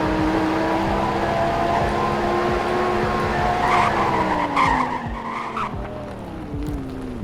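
Cars in the Roblox game Greenville: a steady, loud engine drone with tire skidding and squealing tones sliding down in pitch, continuous throughout with no talk.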